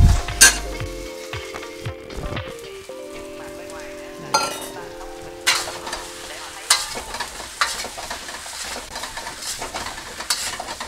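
A gochujang and lao ganma sauce base stir-fried into fried rice in a hot pan, with close sizzling and frying hiss, scraping stirs and clattering utensil hits recurring throughout, no talk.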